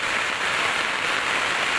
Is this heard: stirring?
no